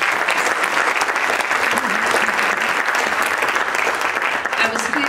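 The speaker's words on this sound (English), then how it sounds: "So let's give her another round of applause" An audience at a talk on nature and the Fibonacci sequence gives a full round of applause, dense and steady clapping throughout, with faint voices mixed in.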